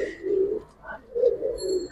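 A Buira-breed pigeon at a pigeon market coos twice, in low, rolling, throaty phrases that are close and clear, with a short pause between them.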